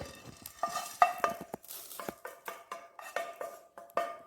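Cumin seeds and black peppercorns dry-roasting in a pan for idli podi, with a spoon scraping and stirring in repeated short strokes, a faint crackle under the metallic clinks, close and moderately loud with no talk.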